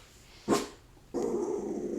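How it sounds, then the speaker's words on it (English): A dog growls and grumbles indoors, with a short sharp burst followed by a sustained low rumble that continues steadily to the end, close and moderately loud. "if my dog will stop growling over nothing"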